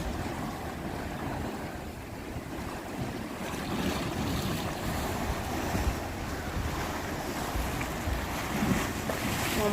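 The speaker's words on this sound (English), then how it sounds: "Sea is slightly choppy now." Choppy sea off Cyprus' Akamas Peninsula washes and slaps around a moving boat, a continuous rushing roar mixed with heavy wind buffeting the microphone, loud and close, without speech.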